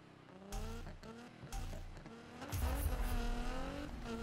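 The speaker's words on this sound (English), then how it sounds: "Oh, it sounds so good. It crackled the exhaust." A 2017 Nissan GTR tuned to 1154 hp in the Need for Speed racing game revs hard through gear changes, its rising engine tones broken by bursts of exhaust crackle, loud and close with no talk.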